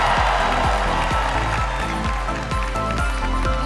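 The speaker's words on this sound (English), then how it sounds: "let's give another round of applause for our selection committee" Crowd at a Miss Universe preliminary competition applauding over loud thumping music with a steady beat, clapping blended in as a continuous wash beneath the rhythm.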